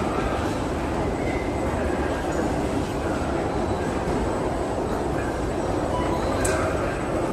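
A Lille Metro train at a station gives a steady, loud rumble of running wheels and motors throughout, with a brief high squeal near the end.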